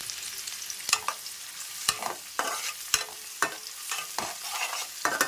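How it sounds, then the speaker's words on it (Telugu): Onions and green chillies frying in a pan, sizzling steadily with sharp scraping strokes of a stirring spoon recurring about once a second, close and fairly loud, with no voices. "ఇందులో మనం ఇప్పుడు ఆనియన్స్ వేసేస్తాం. అలాగే పచ్చిమిర్చి కూడా వేసేస్తున్నామండి."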